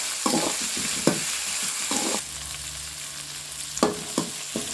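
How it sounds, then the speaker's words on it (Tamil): Bitter gourd sautéing in a pan with salt, a steady sizzle broken by several clattering scrapes of a spoon being stirred against the metal, no voices. "கறியும் நல்லா வதக்கிடலாம்."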